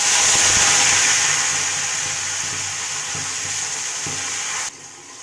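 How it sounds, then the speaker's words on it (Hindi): A loud, steady sizzle of onion-garlic puree frying in a kadhai, with hissing crackle and faint stirring knocks, easing slightly before cutting down near the end. "प्याज लहसन वाली जो मैंने प्यूरी बना रखी थी उसको डाल दिया है मैंने कढ़ाई में अब इसको दो से तीन मिनट फ्राई करेंगे हम"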